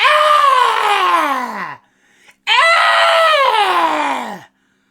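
Two long, loud, piercing screeches from one person, each sliding downward in pitch and separated by a brief gap, heard alone with no talk.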